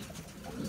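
Jienense pigeons, blue and black males, give soft, low cooing calls close by, faint against a quiet room.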